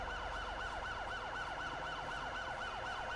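An ambulance siren in the video game GTA V wails steadily in a fast, repeating up-and-down sweep over a low engine rumble, loud and continuous with no talking.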